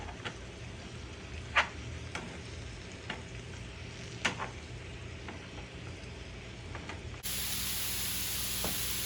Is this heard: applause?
no